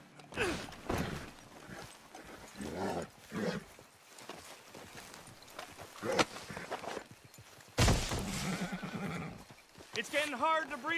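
A horse in the Red Dead Redemption 2 video game neighs and whinnies several times while hooves clip-clop, with loud shouting voices and game noise around it.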